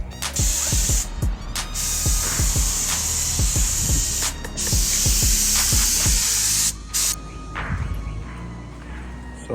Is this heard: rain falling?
no